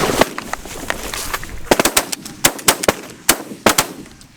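Shotguns fired by a group of goose hunters in North Dakota, a rapid irregular volley of loud, sharp blasts from several guns close by, with a couple of faint scattered shots at first.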